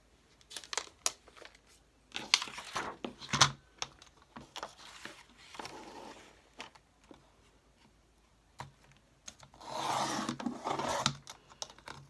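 Green faux leather is cut for the cover of an RV record keeper. Quiet, close snipping, scratching and crinkling come in scattered bursts, with a longer rough rasp near the end and no speech.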